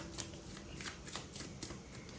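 Tarot cards being shuffled by hand, a quick run of soft riffling flutters and taps, close and quiet.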